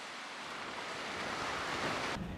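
Strong, cold wind and rough sea waves on the coast near a low bridge between Jeungdo and Hwado islands in Korea: a steady, loud rushing roar that swells slightly, with no talk.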